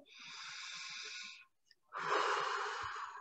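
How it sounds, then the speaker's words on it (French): A person takes a deep breath: a long airy inhale of about a second and a half, a short pause, then a fuller, louder exhale, close to the microphone with no talking. "Prenez une profonde respiration."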